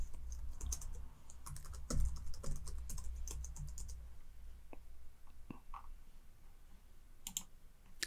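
Rapid keystrokes clatter on a computer keyboard while a password is entered into building-automation software, an irregular run of close, quiet clicks that come in bursts, pause and resume near the end.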